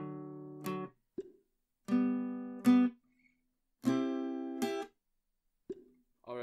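Guitar chords from the Socks progression ring out in separate strummed bursts, each sustaining briefly before fading. Short pauses and a few soft plucks fall between them, played close and quietly.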